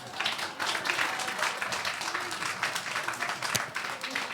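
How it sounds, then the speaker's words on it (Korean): A church congregation breaks into applause for a young member, a dense, steady patter of many hands clapping for several seconds, with some voices mixed in. "우리 승현이에게 멋지다고 박수 한번 해줘요"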